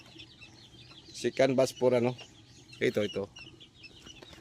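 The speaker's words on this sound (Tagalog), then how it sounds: "Chicken batch natin ito sa early bird chicken batch." Chickens cluck in short bursts from an early-bird chicken batch on a farm, several close clucking calls in two clusters, with a quiet voice speaking briefly around them.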